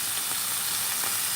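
Shrimp frying in accumulated grease in a pan give off a continuous, even sizzle and hiss, close up and unbroken, with no talk over it.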